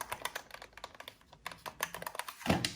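Buttons clicked repeatedly on a PlayStation controller, quiet plasticky taps in quick irregular bursts, close up, ending with a slightly louder thump, no talking.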